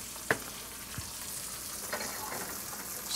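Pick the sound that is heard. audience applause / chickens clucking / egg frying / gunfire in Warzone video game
egg frying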